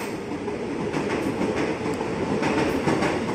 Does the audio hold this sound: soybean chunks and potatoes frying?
no